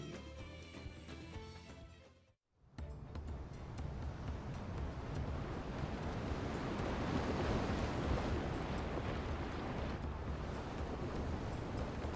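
Sea waves wash steadily beneath a ship sailing in Final Fantasy XIV, with a broad, continuous rushing surf and wind that drops out briefly near the start, then returns full and constant.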